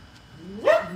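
A dog lets out a single short bark with a rising, whiny pitch, close and fairly loud over a soft background.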